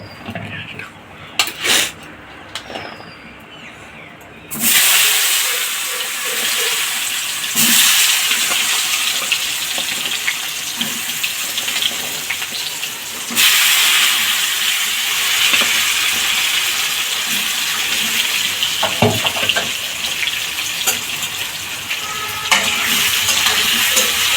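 Pointed gourd (potol) pieces dropped into hot oil and ghee in a pan set up a loud, continuous sizzle that holds steady up close after a few light clinks and taps at the start, with no talking.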